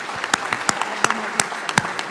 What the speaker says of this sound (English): Nice round of applause for our moderator